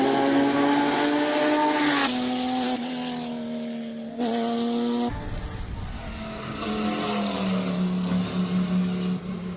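An Audi Quattro classic race car climbs a hill at a classic car speed event, its engine loud and close, revving hard through several gear changes with a strong steady drone between shifts.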